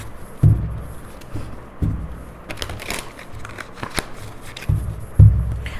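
Tarot cards are shuffled up close in uneven bursts, with soft riffles, crisp flicks and a few louder thumps as the deck is tapped, no talking over it.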